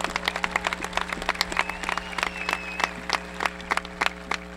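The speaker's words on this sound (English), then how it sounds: "Give y'all a quick round of applause." Audience applause at a high school graduation ceremony for the class of 2022, a sparse, uneven patter of individual claps from a modest crowd, moderately quiet and without talk.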